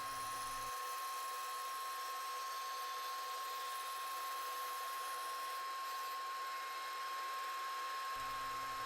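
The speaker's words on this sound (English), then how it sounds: "The mag jigs are activated and the disc slices are cut." A bandsaw slices wood segment discs for a segmented wood egg project: a steady, close machine whine holds throughout with no voices, and the low motor hum drops away during the cut itself.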